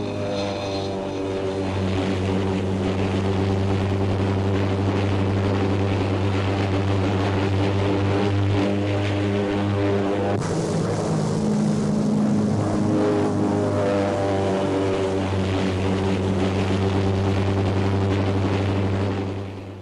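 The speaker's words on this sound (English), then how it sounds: "Just the gannets to land, and all the fixed-wing aircraft will be home and dry." Fairey Gannet fixed-wing aircraft landing on a carrier: a loud, steady turboprop drone with strong harmonic tones that shift in pitch partway through, continuous and close throughout with no voices.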